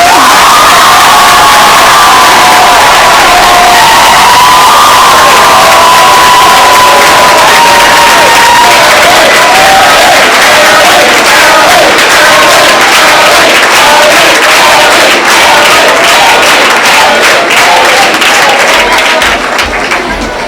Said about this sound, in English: Thank you, now you can applaud